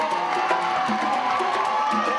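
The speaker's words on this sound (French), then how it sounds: "S'il vous plaît, des applaudissements pour les Miss Mali France" A crowd cheers and whoops continuously for the Miss Mali France 2014 contestants at the Cirque Diana Moreno, with overlapping voices and shouts forming a dense, steady roar.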